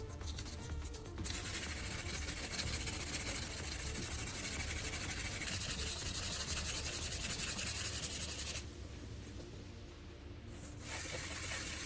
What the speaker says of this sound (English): we're moving to P1500 sandpaper